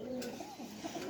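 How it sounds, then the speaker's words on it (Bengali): A pigeon with feathered feet coos softly and steadily, a low rolling call repeated a few times at close range against a quiet background. "অনেক দিন পরে মোজাওয়ালা পায়ে কবুতর ধরেছে একটা"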